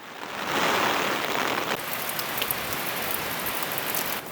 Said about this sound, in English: it is still raining out